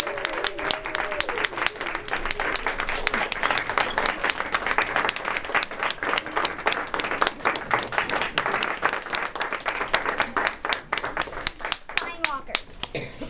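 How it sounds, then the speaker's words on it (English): Sustained applause for a school play's cast and crew, a crowd of hands clapping with many sharp individual claps standing out, and children's voices mixed in beneath. "Now let's give a big round of applause to the cast and crew members."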